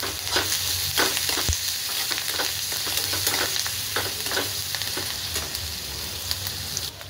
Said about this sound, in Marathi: कांदा आपला छान असा फ्राय होत आहे